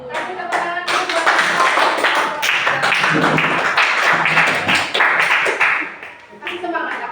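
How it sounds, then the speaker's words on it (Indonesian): A class of students claps hands together in a loud, sustained burst of rapid clapping that lasts several seconds, fading briefly near the end before picking up again. "Kasih tepuk tangan dulu"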